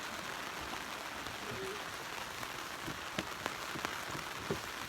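Steady rain falls on the deck of a sailboat, a dense even patter with a few louder drops striking near the end, heard alone without talk.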